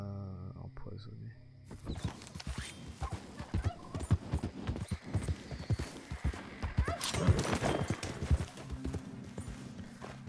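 Horse hooves clip-clop in the Red Dead Redemption 2 video game, a steady rhythmic trotting that begins after a short pause and runs on with some background game sounds.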